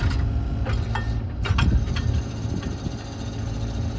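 A Kubota U55-6 mini excavator engine runs at a steady low idle, close by, with a few brief mechanical clanks and rattles.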